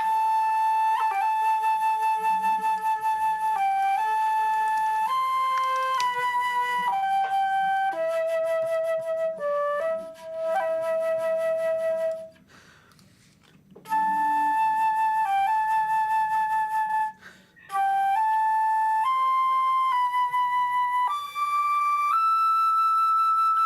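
A solo flute plays Omega's theme from The Bad Batch an octave lower than written, a clear, breathy melody of sustained and stepping notes with two brief pauses, up close and alone.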